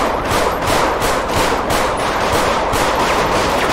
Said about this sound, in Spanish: Tenemos disparos.